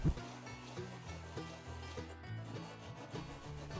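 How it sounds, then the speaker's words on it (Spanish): Steady scraping and rubbing of a glass bottle held at an angle against sandpaper, sanding the edge, a close, continuous abrasive grind with slight rhythmic strokes. "Podemos hacerlo pasando la botella inclinada sobre el papel de lija"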